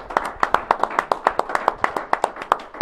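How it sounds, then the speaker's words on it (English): Sharp, evenly spaced hand claps ring out for about three seconds, a small group applauding in a near, steady rhythm rather than a large crowd. "A round of applause"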